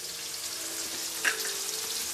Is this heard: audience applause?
no